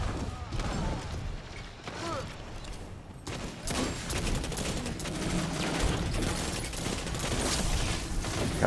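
Dense bursts of exotic automatic rifle fire in Destiny 2 rattle almost nonstop, loud and close, with game effects and scattered chatter mixed in.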